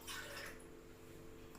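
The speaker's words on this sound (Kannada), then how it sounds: "1 ಕಪ್ ಹಾಲು ಹಾಕಿ" A cup of milk poured into a pot on a stove, a brief bright liquid splash at the start easing into a quieter trickle, close and alone without talk.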